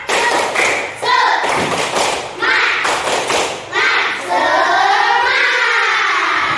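Schoolchildren in a classroom perform a rhythmic clapping chant together, with thumping claps in patterned bursts mixed with their chanted voices, ending in a long drawn-out shout.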